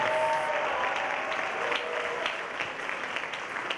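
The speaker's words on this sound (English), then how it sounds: "let's also give a nice round of applause to our chorus and concert choir and Mr. Beaushore" Audience applause fills a high school winter concert hall, many hands clapping steadily at first and slowly thinning and fading toward the end, with no voices over it.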